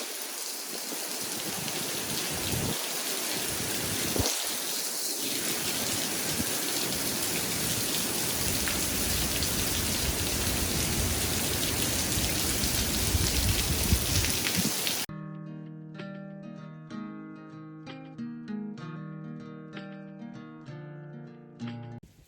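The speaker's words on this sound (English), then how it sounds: "there is no way to stay dry with this blowing rain" Hurricane Delta's blowing rain in Central Louisiana at night pours in a loud, steady roaring wash with gusty surges and heavy drops, then cuts off abruptly and music takes over.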